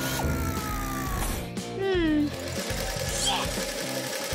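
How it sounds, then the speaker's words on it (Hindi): A sewing machine stitches a handmade top on a deserted island, its steady rhythmic chatter running under music and sweeping tonal effects. "मुझे एक सिलाई मशीन की जरूरत है। इससे काम जल्दी हो जाएगा।"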